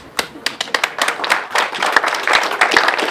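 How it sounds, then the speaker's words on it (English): Scattered, uneven clapping from a school district annual meeting audience, distinct hand claps building into a fuller round of applause nearby. "Would you stand up and take a round of applause for everybody else?"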